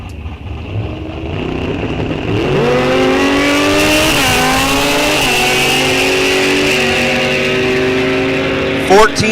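A 1948 Pontiac Silver Streak and a 1985 Suzuki launch down a drag strip, engines roaring loud and rising through gear changes, with an announcer talking over the run.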